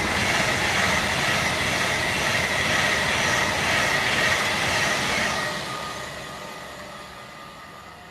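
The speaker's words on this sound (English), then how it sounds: "And here comes a Pendolino." A Pendolino high-speed train rushes past, its loud, steady broadband roar of wheels and air holding for several seconds before fading as it moves away.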